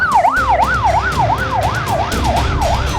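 An ambulance siren wails loudly and close in Gaza's Al-Rimal area after an airstrike, rising and falling in a fast, steady cycle over low traffic rumble.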